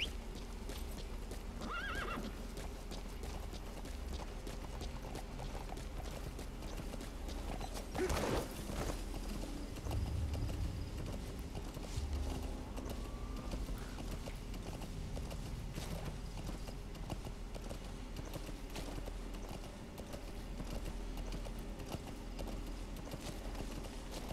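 In Metal Gear Solid V: The Phantom Pain, a horse whinnies near the start, followed by rhythmic clip-clop of hooves over a steady ambient hum, with occasional mechanical clanks.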